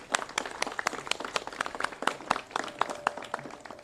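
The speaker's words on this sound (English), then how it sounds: "If you guys would just get a little uncomfortable and show them love by a little bit of a hand clap." An audience at a hurricane preparedness press conference claps steadily, a brisk run of sharp, closely spaced hand claps at moderate distance.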